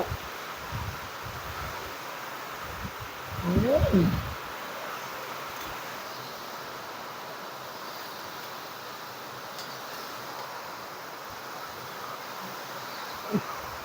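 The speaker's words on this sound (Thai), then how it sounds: "ลมแรงกันนานเลย" Strong wind blowing outdoors, a continuous broad rushing roar that may carry leaf rustle, with a brief louder gust-like bump early on.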